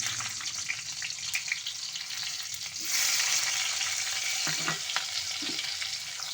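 Chopped tomatoes hit hot oil and ghee with cumin seeds, setting off a close, crackling sizzle that swells louder partway through, with occasional stirring scrapes.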